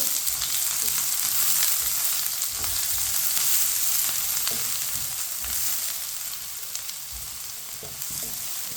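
Finely chopped onion browning in two spoons of oil, a loud steady sizzle with intermittent scrapes of a spoon stirring through the pan, close up and continuous.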